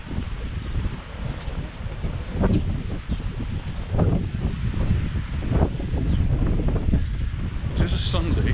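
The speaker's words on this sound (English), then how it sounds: "The sound of the wind's getting a bit louder as we get closer to the sea" Gusty wind near the sea at Paguera, Mallorca, buffets and rumbles close by, with rushing and flapping noise that swells and eases over several seconds.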